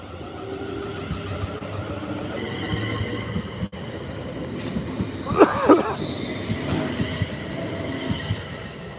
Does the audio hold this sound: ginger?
no